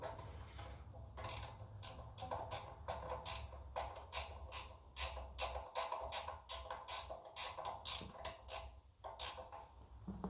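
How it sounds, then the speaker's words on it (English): Ratchet wrench clicking in a steady rapid series of sharp ticks while working on the carburettor of a 1955 Ferguson 20 TED tractor running TVO, close and clear with no talk. "Don't think I get the ratchet over here"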